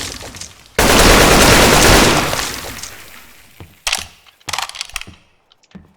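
Loud gunfire and shattering debris in the Teardown game during a robbery, a sustained roaring burst followed by several sharper separate cracks that fade out, with no talking.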